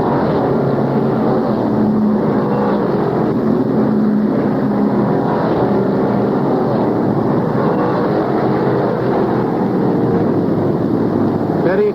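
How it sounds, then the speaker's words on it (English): Vintage 1960s-70s stock race cars roar past on a racetrack, a loud continuous drone of engines at speed, steady and dense throughout with no pause. "Petty cruises by Buck Baker."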